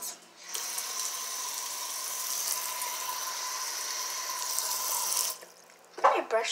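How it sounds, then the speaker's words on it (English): Tap water running steadily into a bathroom sink while hands are washed, a continuous close hiss that stops near the end, followed by a brief clatter. "wash my hands."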